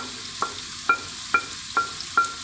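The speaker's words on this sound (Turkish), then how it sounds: "İçerisine bir baş doğradığım soğanımı kavuruyorum." Onions sizzle softly in a hot pan while a spoon scrapes and stirs in about five regular strokes as they fry.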